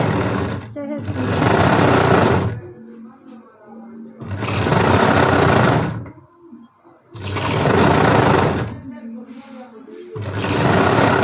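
A sewing machine double-stitches a blouse lining in four loud, close bursts of rapid rumbling stitching, each lasting a second or two, separated by brief pauses with quieter handling.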